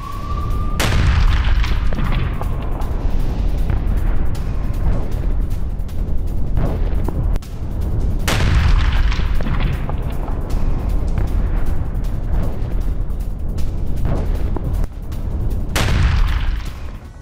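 Missile strike explosions on a Hamas post in Gaza: several loud, heavy booms spaced a few seconds apart, each followed by rumbling debris over a continuous roar of blasts.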